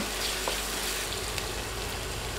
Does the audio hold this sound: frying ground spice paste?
yes